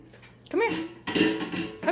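Small 9-pound dog whimpering and yipping with rising whiny cries, close by, in two bursts with faint clatter in the background.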